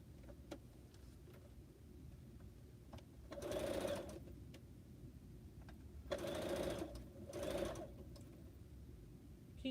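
A sewing machine stitches quilt pineapple blocks in three short bursts of whirring needle noise over a quiet room hum, with faint ticks between runs.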